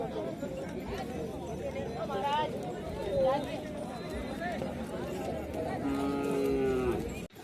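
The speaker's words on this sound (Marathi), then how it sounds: "सुंदर अशा लाल लाल बैलजोड्या या ठिकाणी आहेत" Cattle lowing at a crowded bullock market in Pusad where pairs of red bullocks are traded, several moos rising over constant crowd chatter and nearby talk.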